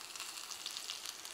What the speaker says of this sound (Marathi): आणि तडक्यासाठी हे छोटंसं कढलं, त्यामध्ये थोडंसं तेल, जिरं